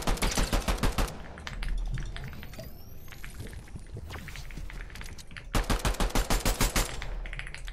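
Rapid bursts of automatic gunfire in the video game Fortnite, loud and close, coming in two clusters with a quieter stretch of scattered shots and effects between them.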